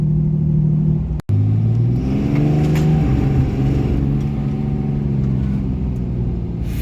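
A Holset HE300VG turbocharged vehicle revs and accelerates with a steady, loud engine rumble and rising drone, broken by a brief dropout near the start, with no talk.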